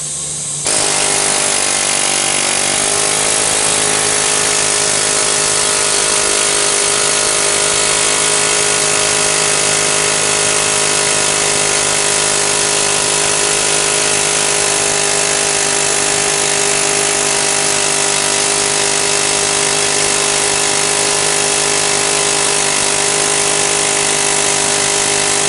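A pneumatic air tool working on the driveshaft of a 2003 Yukon starts abruptly and then runs as a loud, continuous, high-pitched whirring whine for the rest of the clip, with no talk over it.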